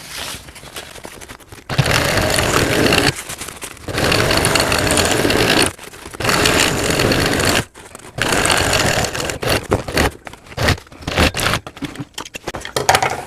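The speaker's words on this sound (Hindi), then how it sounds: "फिर अस्तर को भी हम उसी तरह से सिलाई कर लेंगे" A sewing machine stitches the lining of a handmade school bag for a young child, running in several steady, loud bursts of a few seconds each, separated by brief pauses and followed by shorter, choppier runs.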